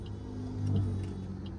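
A car engine restarting after stalling when the clutch was released too abruptly on an uphill start, heard as a brief low rumble that swells mid-clip and settles into idle.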